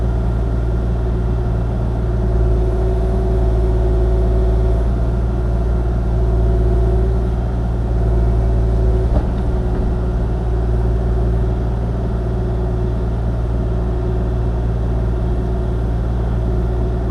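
A Kubota KX-040 excavator digging a trench in gravel on a dreary day, its steady diesel engine rumble loud and close throughout with faint scraping underneath.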